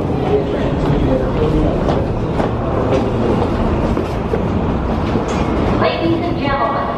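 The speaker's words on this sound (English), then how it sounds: "there is a downtown local train 1 minute away" A New York City subway train rumbles and clatters through a station at rush hour, loud and continuous, with rail clicks and a high metallic squeal near the end, plus an announcement over the noise.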